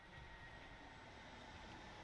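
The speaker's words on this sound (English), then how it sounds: "I hear the plane flying over" An airplane passes overhead in the Hypermarket Simulator game, a faint, steady low engine rumble with no distinct events, heard alone at low level.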